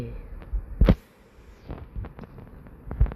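Gunfire from an M1 Garand rifle in the video game World War Heroes, with a few sharp, separated shots, the loudest early on and others scattered later, over quiet background.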